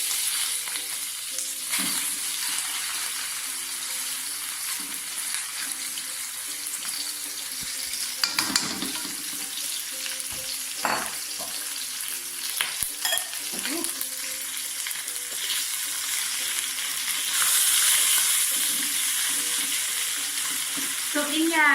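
Beef for a Korean chilli beef stir-fry sizzles loudly in a hot pan, a dense continuous hiss and crackle with occasional scrapes and clatters of stirring, close up.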